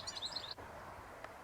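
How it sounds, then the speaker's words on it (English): Birds chirp outdoors near water in a quick run of high, bright tweets that fade out, then a single faint chirp a moment later, over a low ambient background. "birds cooing."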